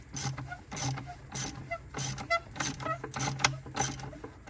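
A hand ratchet loosens 10mm bolts on the 4.7L engine of a 2006 Dodge Dakota 4WD Quad Cab, giving quiet, close bursts of rhythmic clicking with short pauses between strokes.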